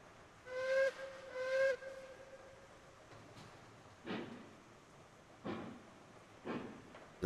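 A steam locomotive hauling a heavy freight train in the game Railroads Online gives two whistle blasts and then several short, sharp bursts of steam hiss.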